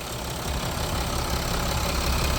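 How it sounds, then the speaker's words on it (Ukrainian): Steady, rumbling idle of a 2016 Mercedes-Benz Sprinter van's three-litre engine nearby, a constant low drone with no revving. "трьохлітровий двигун працює просто ідеально"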